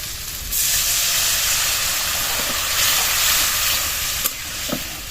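A loud, sudden hiss rises as water is poured onto hot spiced masala with tomato in a pan, then settles into a steady bubbling sizzle with a couple of sharp clinks near the end; no speech.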